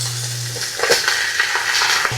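A spoon stirs sweet and sour sauce with pineapple tidbits in a pan, giving soft scraping and sizzling sounds up close for about two seconds, with no talk.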